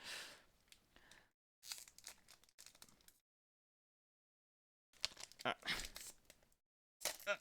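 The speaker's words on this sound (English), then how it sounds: "Let's open this first, see what we got for the 1-year anniversary promo pack." Digimon TCG one-year anniversary promo booster pack being opened by hand, with close crinkling and tearing foil in several short bursts separated by silent gaps.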